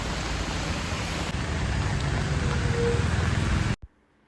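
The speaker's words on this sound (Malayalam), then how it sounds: "അത്യാവശ്യം നല്ല മഴയാണ്." Heavy rain falls steadily as a dense, even wash of hiss close by, continuing for several seconds before stopping abruptly; no voices.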